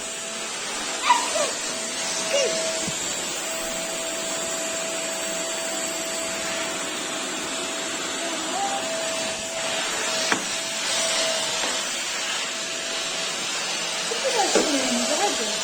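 A small child-sized vacuum cleaner hums steadily throughout at close range, with a few brief clicks and knocks and some soft voices near the end.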